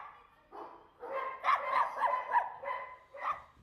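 Several dogs bark and yip in quick overlapping bursts, moderately loud in a reverberant room, with a whining edge between barks.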